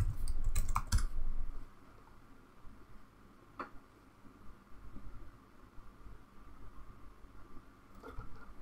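A computer keyboard as a password is entered, heard as a quick burst of loud, close key clicks at the start, then fading to a few scattered soft taps over low background hiss.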